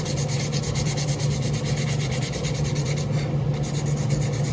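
Steady, continuous rubbing and sanding on wood while a chamfer is put on an axe, holding an even, close, fairly loud scraping texture throughout with no voices.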